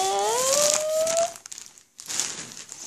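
A plastic DNR store shopping bag, holding a magazine or book, crinkles while being handled: a steady, close rustling that thins out, stops briefly, then comes back.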